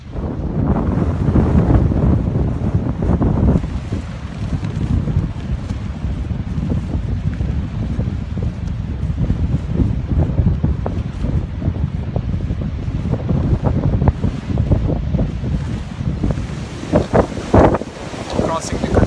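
Strong wind gusts off the water at Kirkpatrick Dam on a Florida trail in Ocala, buffeting the microphone with loud, continuous low rumbling and roaring that fluctuates throughout.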